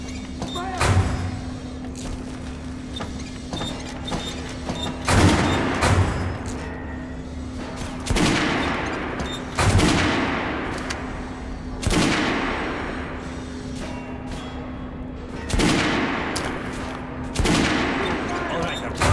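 Guns firing on a shooting range in Metro Last Light Redux, with sharp, echoing single shots coming every couple of seconds over a steady low hum.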